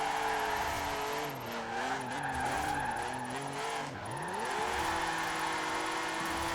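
A BMW drift car slides sideways, its tires squealing continuously in long, wavering howls over a loud, steady engine roar, heard from inside or close by.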